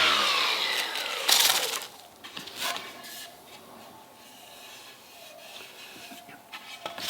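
Hand sanding of reclaimed wooden stage floorboard with 120 grit sandpaper: a close, loud rasping rub at first, then lighter, intermittent scratchy strokes, with no talking.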